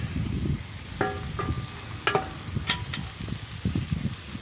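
Chicken sears in a cast iron pan to build a crust, with a loud, crackling sizzle and a few sharp metallic clinks of utensils against the iron.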